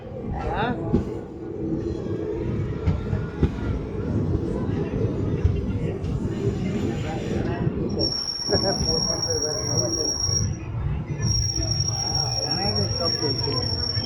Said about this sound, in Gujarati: ખાખરિયામાં એકદમ રાઈટ ટાઈમ ટ્રેન એન્ટર થાય છે